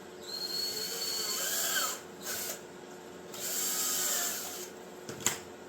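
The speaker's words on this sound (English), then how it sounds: "and just drilling my pilot holes" A power drill whirs in short bursts, spinning up and down a few times as it bores pilot holes into wood, with a brief knock near the end.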